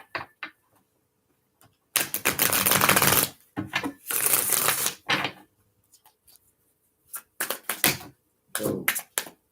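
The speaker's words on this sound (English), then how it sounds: "So I'm getting a couple good shuffles." Bursts of tarot cards being shuffled, with crisp riffling flutters separated by quiet pauses and a few soft taps, close to the microphone.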